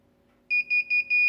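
An INKBIRD ITC-308 temperature controller alarm starts up as the sensor heats past 23 degrees, beeping in quick pulses that merge into a steady tone, loud and close over a faint hum.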